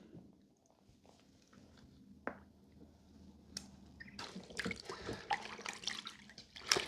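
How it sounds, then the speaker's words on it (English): Liquid laundry detergent is squeezed from a packet into wash water, soft wet squishes and drips, quiet at first, then growing into louder splashing and swishing toward the end, close by. "I'm going to open it up and put the detergent in because I don't want to have the plastic in the water. So just squeeze all that out into there."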